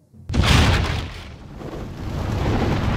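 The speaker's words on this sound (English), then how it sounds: "you got the explosion." A sudden loud boom bursts out after a brief silence, followed by a deep rumbling roar that lingers and swells again.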